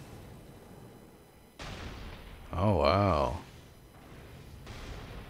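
Explosion effects in a sci-fi video game: a steady, rumbling burst of noise that swells and then holds, with a person exclaiming briefly over the middle of it.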